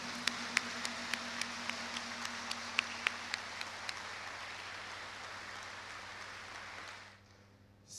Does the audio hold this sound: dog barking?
no